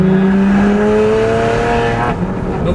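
A 600 HP BMW Z4 with an N54 engine accelerating hard, its loud close engine note climbing steadily in pitch through a gear before a brief dip near the end.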